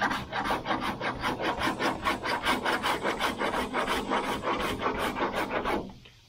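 A cheese-grater rasp scrapes across body filler on a 1978 Dodge Aspen R/T, a loud, close, rhythmic back-and-forth rubbing in steady even strokes that stops abruptly at the end.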